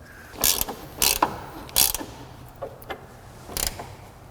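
A ratchet running down a suspension bushing bolt on a 2003 Nissan Sentra, four or five short bursts of rapid clicking with pauses between, close and clear, with a few softer clicks in between.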